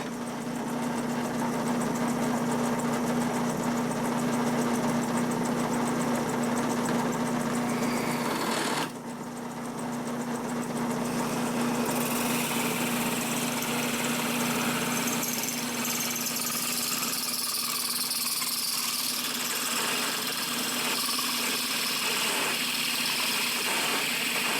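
A drill press running while centering a hole in the thin metal lid of a 1970s chandelier, a steady close motor hum with a mechanical whine that shifts partway through and then grows noisier, no voices.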